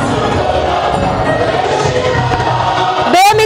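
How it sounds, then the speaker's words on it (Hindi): A school annual day audience gives a loud, steady roar of crowd noise and applause, with cheering and voices mixed in throughout. "बेमिसाल परफॉर्मेंस के लिए जोरदार तालियां बजाइएगा"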